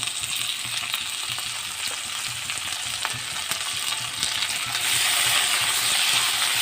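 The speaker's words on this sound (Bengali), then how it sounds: "এখন এটা আমি ভেজে নেব সুন্দর করে।" Vegetables sizzle loudly in hot oil with turmeric and salt for Bengali khichuri, a dense, steady crackle with light scraping and clinks of a stirring utensil, growing louder near the end.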